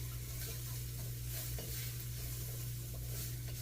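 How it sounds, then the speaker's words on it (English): Butter melts in a pan for beer cheddar soup, giving a steady, close, continuous sizzle and bubbling with faint stirring underneath and no talking. "Get that butter in there, get it melted"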